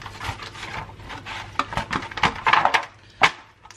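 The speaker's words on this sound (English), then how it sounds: "we just splosh a generous amount and rub it into the skin" Hands rubbing olive oil into raw chicken skin for a roast, giving close, wet, squelching rubs in an uneven rhythm of short strokes, with no talking.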